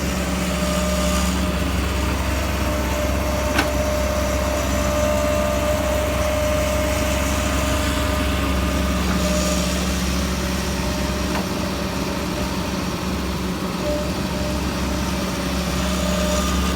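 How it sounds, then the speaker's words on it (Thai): A water pump engine runs steadily nearby, a loud, constant mechanical drone with a low hum and faint rattling that continues unchanged throughout, with no voices. "เครื่องสูบก็อยู่ฝั่งนี้"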